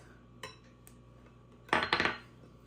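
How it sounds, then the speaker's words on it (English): A spoon stirs cream cheese, sour cream and dry ranch seasoning mix together in a bowl. Soft, faint scrapes are followed by a short cluster of sharper clinks against the dish, with no talking. "I'm just going to stir this together until it's smooth and creamy"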